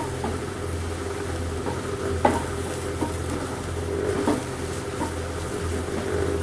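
Curry leaves sauté in hot coconut or vegetable oil, giving a continuous low sizzle with occasional spoon scrapes and soft taps against the pan, close and fairly quiet.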